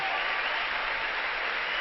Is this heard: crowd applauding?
yes